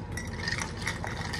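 Straws stirring coffee and creamer in a cup, giving a steady run of light clinks and swishes at close range with no voices.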